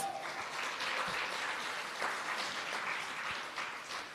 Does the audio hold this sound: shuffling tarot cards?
no